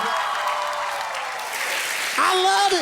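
Audience applause at a stand-up comedy show, a steady wash of clapping from the crowd that continues throughout, joined near the end by a loud voice speaking over it.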